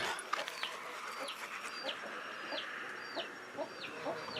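Repeated short clucking calls from chickens, including a blue rooster, sound at a steady pace over a busy, noisy farmyard background, moderately close.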